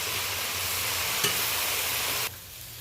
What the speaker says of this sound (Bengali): শাক, আলু, বেগুন, কাঁকড়া একসাথে ভালোভাবে নেড়ে নিচ্ছি।